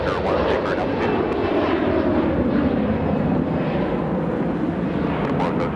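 A passenger airliner accelerating down the runway for takeoff at LAX, a loud, steady, broadband jet engine roar that fills the whole clip without letting up.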